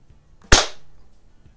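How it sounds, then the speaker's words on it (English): A single sharp, loud shot from a CO2 air rifle, the Stoeger X-M1 in a target-shooting session, with a quick crack and brief decay, alone with no talk. "This one's a lot of fun to shoot. I do like the CO2."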